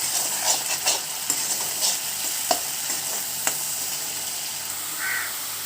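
Onions fry and hiss in hot oil in a pan, stirred with a few scraping knocks against the metal, a steady close sizzle with a crow cawing faintly in the background near the end.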